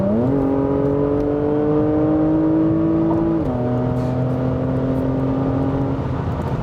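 Porsche Macan GTS SUV with a 3.0 V6 accelerating in Sport Plus mode, a loud steady engine drone rising in pitch through one gear, dropping at a shift, then climbing again, close and continuous with no talk.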